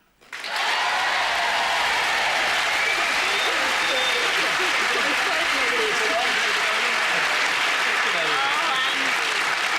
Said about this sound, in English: You got a bigger cheer than we did